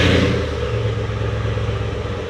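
A 2007 Saleen S331 with a supercharged 5.4-litre V8 revs sharply at the start, then settles into a deep, throbbing idle rumble, loud and close, briefly and alone.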